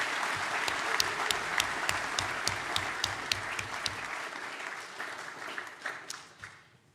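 Sustained applause from a graduation ceremony audience, many hands clapping steadily at moderate distance in a large hall, holding for several seconds before thinning out and fading at the end.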